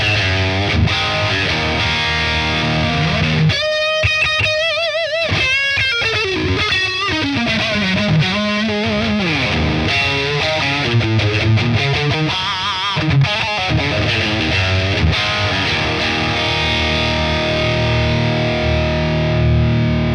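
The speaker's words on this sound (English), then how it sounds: "check out the filth that sounds on the Strat" A Stratocaster through the Neural DSP Archetype Abasi with high gain and a tight setting plays a heavily distorted run of chords and fast riffs, loud and dense and unbroken from start to finish with no talking.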